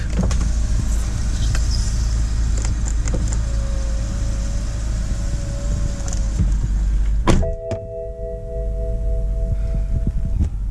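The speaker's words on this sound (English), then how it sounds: "The windows do work." Power windows on a 2009 BMW 528i with a rough-running engine, a steady motor whine lasting a few seconds over constant engine and cabin hum, then a clunk as the glass seats and another short whir follows.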